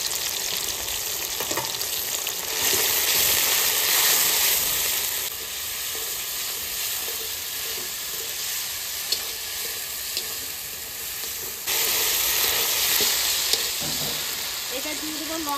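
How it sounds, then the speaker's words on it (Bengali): A paste of ginger, garlic, dried chili and ground cumin fries loudly and hisses in a pan, a dense continuous sizzle that swells and eases as it is stirred, with no talking. "এবার দেবো আদা, রসুন, শুকনো লঙ্কা। এটা দেবো জিরে, জিরে বাটা।"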